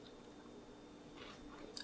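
Someone chews crispy, crunchy corn fritters close up, with soft bites and a few louder crunches near the end, heard alone at low volume.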